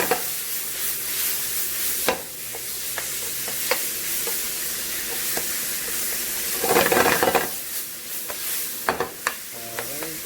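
A spoon stirs spiced eggplant bharta mashed with garam masala in a frying pan. Steady sizzling runs underneath, broken by scraping strokes and louder stirring bursts, close up and with no talk.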